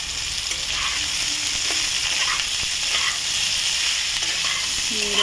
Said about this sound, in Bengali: দেখুন ফুলকপিটা মোটামুটি ভাজা ভাজা হচ্ছে।